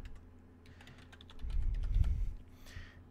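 Brisk typing of a password on a computer keyboard, a quick run of close, light key clicks with a slightly louder cluster in the middle, no voice.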